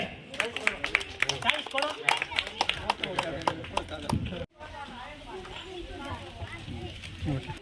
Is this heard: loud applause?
yes